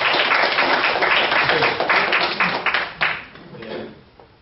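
A church congregation applauds together after a Sunday sermon announcement, a dense steady wash of clapping that thins out and fades toward the end.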